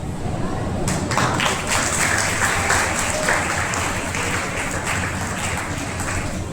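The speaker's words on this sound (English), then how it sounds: "A huge round of applause for the great women" Audience applause at a school investiture ceremony, a sustained wash of many hands clapping throughout the room, loud and continuous with no voices standing out.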